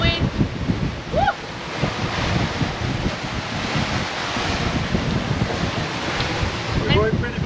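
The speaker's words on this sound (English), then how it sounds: "And now we have 20 knots of wind." Strong wind of about 20 knots roars across a sailing catamaran at sea during a squall, a loud constant rush of gusts and buffeting on the microphone, mixed with waves and spray and brief voices.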